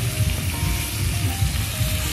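Meat sizzles and fries steadily in a pan, a close, continuous crackle with soft stirring texture and no talking.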